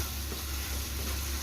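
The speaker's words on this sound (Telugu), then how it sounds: "పచ్చడి మొత్తం వేసుకొని ఓ 2 మినిట్స్ అలా కలియ తిప్పుకొని" Ground ginger and green chilli chutney sizzles steadily in a hot pan as it is stirred, a continuous close frying hiss with no voices.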